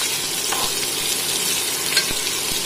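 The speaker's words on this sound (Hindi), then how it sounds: "डियर अच्छे से प्याज को आप फ्राई कर ले" Onions frying in a pan for chicken pulao, a steady close sizzle with a few light stirring clicks, no talking.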